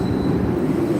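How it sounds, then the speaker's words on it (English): A Chicago Red Line subway train rumbles steadily beneath a city street, a dense low roar with a faint high whine on top and no talking. "There you hear the Red Line subway going underneath us there."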